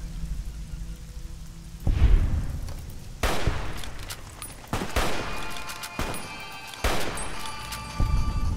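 Heavy gunshots ring out in Fallout New Vegas, several sharp loud blasts spaced a second or so apart, each with a rumbling, reverberant tail over a constant rain-like hiss.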